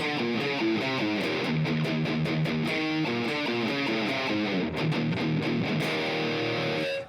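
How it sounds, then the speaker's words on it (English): A heavily distorted electric guitar plays a crunchy chugging riff with shifting chords, loud and alone. "the first one would be like kind of a heavier crunch sound"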